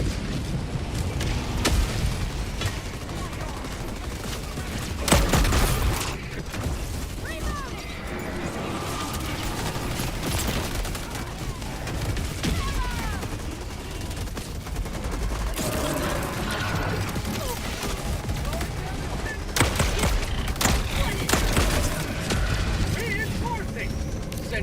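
Sentry gun fire and explosions in the video game Helldivers 2, a chaotic mix of rapid mechanical bursts, booms and crashes, with a player's voice occasionally over the action.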